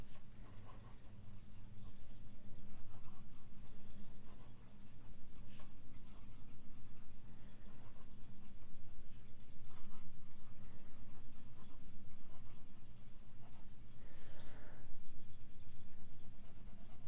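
Fountain pen with an extra fine nib writing in a notebook, a soft continuous scratching and rustle of nib on paper, close and steady throughout with faint low room hum.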